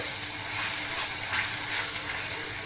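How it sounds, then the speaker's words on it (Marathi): Masala fries in oil in a pan for a Gudi Padwa festival thali, giving a steady, close sizzle and hiss that holds at an even level throughout, with no talk. "आता आपण ह्याच्यामध्ये हा छान फ्राय करून घेणार आहोत"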